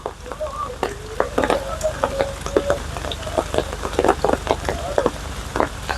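Rain pours at Neyyar Dam in Trivandrum, a dense, steady crackling patter of drops striking nearby surfaces, close and continuous with no voices.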